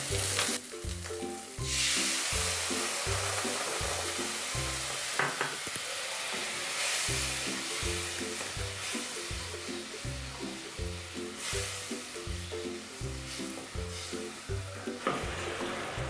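Drumstick malai curry with green chilies sizzling in a pan just after coconut milk is poured in, a loud, continuous frying hiss broken by a regular rhythm of stirring strokes, close up and without talking.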